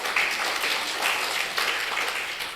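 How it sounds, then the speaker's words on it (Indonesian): A church congregation breaks into warm applause, many hands clapping in a dense, even wash that swells slightly in places over nearly three seconds, with no talking over it. "Kasih tepuk tangan yang meriah bagi Tuhan."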